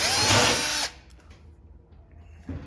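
Power drill backing out a 1/4-inch screw from the tub panel of a GE washing machine, a loud close whir lasting under a second, then quiet handling noises and a brief second start at the end.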